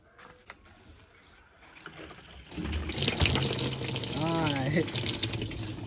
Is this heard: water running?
yes